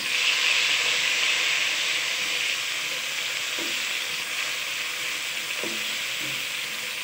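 Onions and tomatoes sautéing in a pan for mung bean stew, a steady loud close sizzle with a few faint clicks of a utensil.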